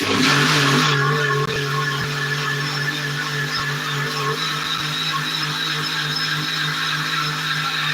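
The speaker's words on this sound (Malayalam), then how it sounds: "സൂപ്പർ ക്രീം വാനിലയാണ് ഇത് നമുക്ക് അതിന് അടിച്ചെടുക്കാം" An electric blender whips a super-cream vanilla ice cream mix, a loud steady motor whine with a brief louder burst at the start before it settles into an even drone.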